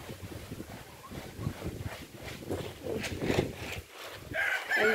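Strong gusty wind roaring outdoors after a tornado-like storm passed through, a steady rushing buffet against the microphone that swells and surges throughout.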